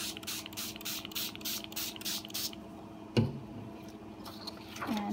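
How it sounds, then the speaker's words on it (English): Water sprayed from a hand spray bottle onto a mono print plate, a run of about eight quick, hissing bursts in steady rhythm, then a single soft thump and quiet handling noise. "we'll spray this again with water."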